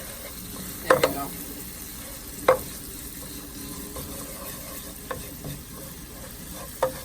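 Chili cooks in a pan under a soft, steady sizzle, broken by a few sharp scrapes and clacks from stirring and a brief spoken remark.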